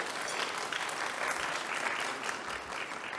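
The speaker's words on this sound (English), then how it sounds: "Let's give them a round of applause" A round of applause for sponsors from a women's brunch audience, with steady, dense clapping that stays fairly quiet and distant for the whole stretch.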